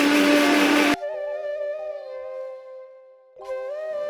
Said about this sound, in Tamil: மிக்சியில் போட்டு நல்ல பவுடராக அரைச்செடுத்து கொள்ளுவோம்.